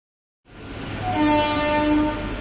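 The Howrah–Pune Azad Hind Express sounds a long, loud horn with stacked tones as it arrives at Bhilai, over rumbling rail noise, starting after a short silence.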